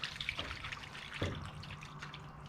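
Water trickles and drips inside a car's gas tank, a soft, uneven dribble with a few sharper splashes, faint and close, heard on its own without talk.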